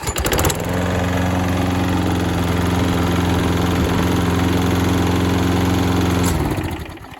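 A lawn mower engine with a fault, running at low RPM, starts and settles into a loud, steady, droning idle for several seconds before cutting off, with nobody speaking.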